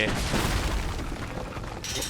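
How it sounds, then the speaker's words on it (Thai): An explosive barrel blowing up in the video game Uncharted: Drake's Fortune, a loud, dense burst of booming, crackling noise that fills the short moment from start to finish. "นี่นี่ถังระเบิดถังระเบิด"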